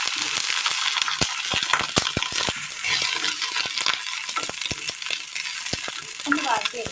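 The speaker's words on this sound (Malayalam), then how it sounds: "അടുപ്പത്ത് ഒരു പാൻ വെച്ച് കൊടുത്തതിന് ശേഷം അതിലേക്ക് ഒരല്പം എണ്ണ ഒഴിച്ചു കൊടുക്കാം. വഴുതനങ്ങ ഇട്ട് കൊടുക്കാം." Eggplant frying in a little oil in a pan, a steady close sizzle with frequent sharp clinks and stirring scrapes of a utensil against the pan.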